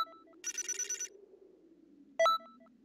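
A phone ringing in the video game Dragon Ball Xenoverse 2: a short burst of electronic ringing, a pause, then another brief ring over a low hum of game background sound.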